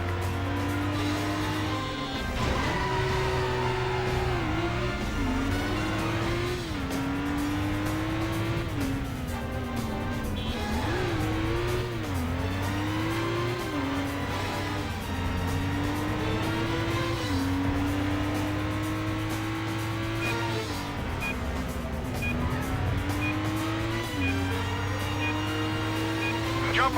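Stunt car engine in the game Stuntman, loud and constant, rising and falling through repeated revs and gear shifts while overtaking, close and unbroken for the whole stretch.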